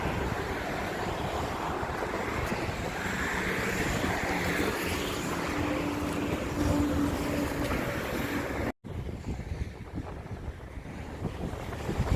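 Sea waves wash steadily at a bridge over the sea in Bahrain under heavy wind buffeting the microphone, a constant roaring rush with a brief dropout midway.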